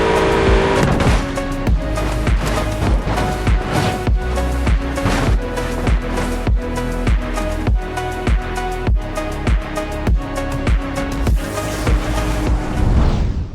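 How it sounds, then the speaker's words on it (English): Crash sound effects from the driving game BeamNG, with a car engine roaring under a fast rhythmic series of sharp impacts and thuds, loud and dense throughout. "Here is an example of visual effects in sync with the audio or sound effects from BeamNG."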